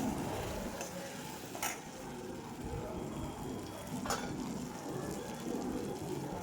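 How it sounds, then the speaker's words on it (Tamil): Onions sautéing with salt in a pan, a soft low sizzle with occasional scrapes and clinks of a spoon against the metal, close and quiet without talk. "வெங்காயம் வதங்கிறதுக்கு கொஞ்சமாக உப்பு சேர்த்து நல்லா பொன்னிறமாக வதக்கிக்கலாம்"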